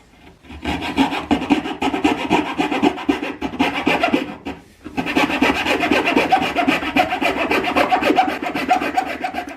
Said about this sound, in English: we're just going to cut it out with a coping saw